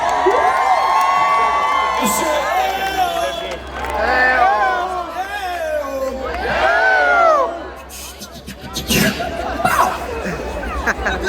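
A live audience cheering, whooping and applauding as the DJ act is introduced on stage, a loud swelling crowd roar with shouts, mixed with voices over the noise.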